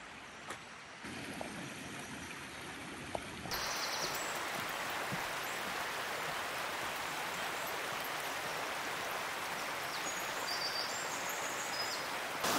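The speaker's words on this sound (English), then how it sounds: "All you can hear is the birds chirping, the water going downstream." Steady broadband rush of a stream flowing downstream through a Welsh forest along a boardwalk, with faint bird chirps above it, growing louder after a few seconds and continuing without talk.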